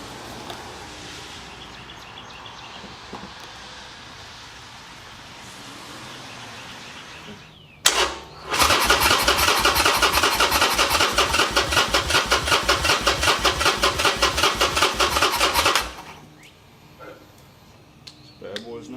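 A Harley Sportster motorcycle cranks for about eight seconds with a loud, rhythmic starter churn that never catches, then falls quiet. Someone speaks quietly beforehand.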